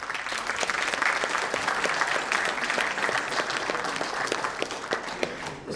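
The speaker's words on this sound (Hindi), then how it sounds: "क्यों ना हम इनके लिए खूब तालियां बजाएं" A seated audience claps warmly for a guest at an indoor talk program, with dense, steady applause holding for several seconds before easing slightly at the end.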